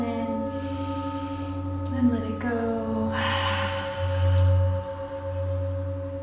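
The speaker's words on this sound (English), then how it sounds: "Last few breaths here. Big inhale" A slow, deep breath in and out during a legs-up-the-wall yin yoga pose, a soft, close airy inhale followed by a long exhale over calm background music with no talking.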